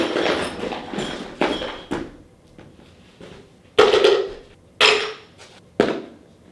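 Metal Audi and Volvo parts and bolts tipped out of a container, giving several loud clattering bursts of clinking metal separated by short pauses, close and with no talking.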